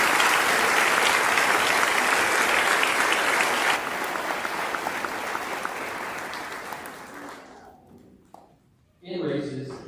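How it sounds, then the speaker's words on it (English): Loud, dense applause from a large audience at a high school graduation fades gradually over several seconds, then a voice begins speaking. "I'd like to have a round of applause"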